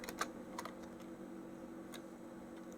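Fingers tap a computer keyboard while typing a web address, giving a handful of quick, light clicks early on and one more a moment later over a steady low room hum, with no voices.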